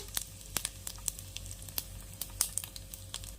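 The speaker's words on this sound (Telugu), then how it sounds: "ఎండుమిర్చి వేసాను, కొంచెం ఆవాలు, మినపప్పు, కొంచెం జీలకర్ర వేసి ఇలా వేయించుకోవాలండి" Dried red chillies, mustard seeds, urad dal and cumin fry in hot oil as a tempering for a coconut and mango chutney: a close, steady sizzle with frequent sharp crackling pops, and no talking.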